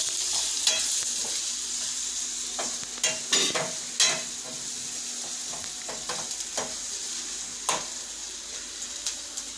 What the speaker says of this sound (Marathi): थोडासा मसाला हा सुद्धा आपल्याला चांगला परतून घ्यायचा आहे